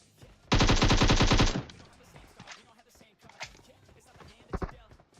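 A rapid burst of automatic gunfire in PUBG Mobile lasts about a second, loud and rhythmic, followed by quieter game sounds, footsteps and a couple of isolated sharp shots, with a voice talking intermittently.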